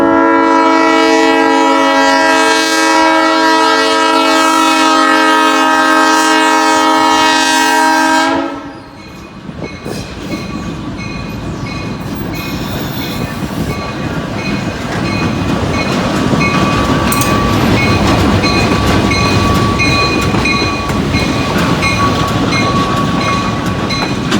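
A loud, sustained horn chord from a Whitewater Railroad train blares for several seconds, then cuts off as rumbling, clattering rail cars roll steadily past close by.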